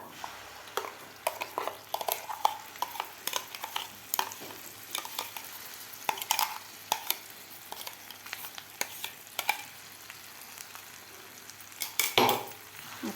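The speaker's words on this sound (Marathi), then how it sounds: "आपल्याला हा मसाला व्यवस्थित परतून घ्यायचा आहे दोन ते तीन मिनिट तेलामध्ये" Cashew masala paste being stirred and fried in hot oil with chili powder for a dhaba-style kaju masala, with a steady close sizzle broken by frequent scraping spoon strokes and clinks, and no talk.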